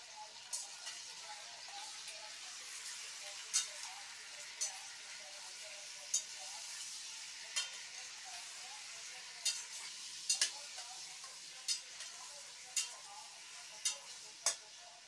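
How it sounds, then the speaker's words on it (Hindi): Mixed meat frying in a pan for dhuan dahi gosht, giving a faint, continuous sizzle broken by sharp clicks and taps of stirring every second or so. "इसकी करती हूँ मैं फ्राई।"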